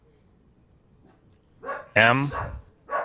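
A dog barks indoors in a few short, loud bursts close to the microphone, with a person talking nearby.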